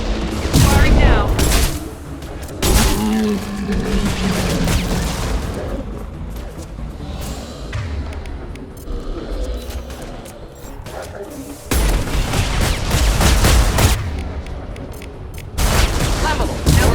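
Gunfire in the video game Mass Effect 2 comes in loud bursts and booming shots, broken by quieter stretches with game sounds in between.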